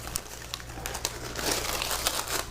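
Parchment paper crinkles softly and close while a guava roll cake is rolled, with light irregular rustles and crackles over a faint low hum.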